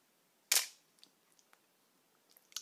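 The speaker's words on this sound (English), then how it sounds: "Let's press the shutter button and see how it sounds." Canon New F-1 film camera shutter release firing once: a sharp, loud, close metallic snap followed by a brief ringing tail, then a few faint small clicks and handling noises.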